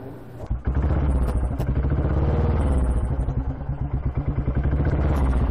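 A motorcycle engine with an electrical fault runs close and loud, its uneven, stumbling beat misfiring and popping irregularly through a continuous low chug.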